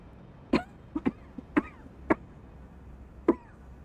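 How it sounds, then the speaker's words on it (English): Several short coughs, close and fairly loud, come in an irregular burst from someone partway through an Elden Ring play session, with quiet pauses between them and no talking. "One sec, my cough again."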